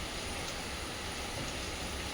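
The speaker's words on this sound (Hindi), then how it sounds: "पीछे आपको बारिश की आवाज़ भी दिखाई दे रही होगी" Heavy monsoon rain falling outdoors, a steady dense hiss of downpour, faint and continuous with no other sounds.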